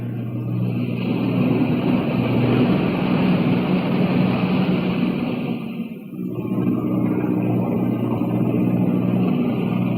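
Boat engines drone loud and continuous with a steady low hum and rushing wind-like noise, dipping briefly midway before resuming at full strength.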